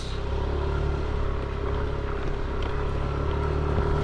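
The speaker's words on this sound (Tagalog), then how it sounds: "Ang unang akyat ng aking Aerox." A Yamaha Aerox scooter engine drones loud and steady, straining continuously as it climbs uphill, with no voices.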